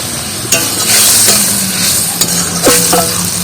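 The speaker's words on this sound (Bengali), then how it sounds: "যে সর্ষে বেটে রেখেছিলাম সেই সর্ষে বাটার জলটাও দিয়ে দিচ্ছি মধ্যে" Watery ground mustard paste poured into a hot frying pan for a vegetarian fig (dumur) dish, giving a loud steady sizzle with stirring scrapes and a few sharp clinks of utensil on pan.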